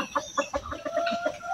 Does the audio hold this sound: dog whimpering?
no